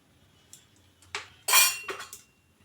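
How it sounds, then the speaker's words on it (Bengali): Metal wok set down on a stove and oil added, a few close clanks and scrapes building to a louder burst of metallic clatter, then fading. "কড়াই তেল দিয়ে দেব।"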